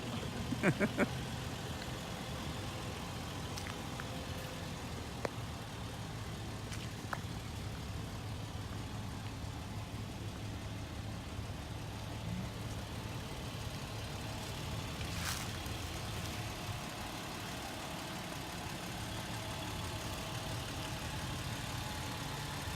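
A 2007 Toyota 4Runner Sport engine idles with a faint, steady low hum, a few light knocks and clicks scattered over it and no talk.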